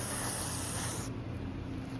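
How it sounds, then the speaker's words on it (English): Silicone spray aerosol hissing onto a vehicle's rubber seals, a steady close, loud broadband spray that runs continuously and eases slightly partway through. "I'm just going to hit these rubber seals here with a little silicone spray."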